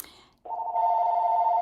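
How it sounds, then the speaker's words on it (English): A mobile phone rings during a talk at an exhibition opening, its steady electronic tone starting after a brief pause and sustaining loud and close without any voices over it. "my phone is ringing"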